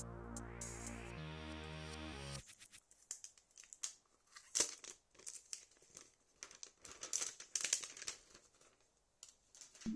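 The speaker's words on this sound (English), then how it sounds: "let's remove the plastic cover." Plastic film crinkles and tears as the cover is peeled off a Samsung Galaxy M12 phone, sharp crackling snaps and rustles coming close and intermittent after a short tonal beep at the start, with no speech.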